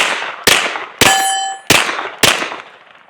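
Four sharp metallic clangs at irregular intervals, each a ringing strike of a bullet from a Smith & Wesson FPC on a steel plate, loud and close with brief ringing decay.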